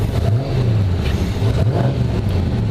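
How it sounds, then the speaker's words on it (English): A 1934 Ford's engine revs up and settles in a steady low rumble, close and continuous with no talking. "We'll go ahead and rev it here"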